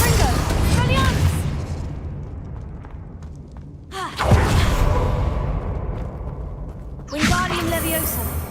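Explosive Bombarda and Confringo spells in Hogwarts Legacy go off in three bursts, each a broadband blast with a trailing rumble, set over steady game ambience with no talk.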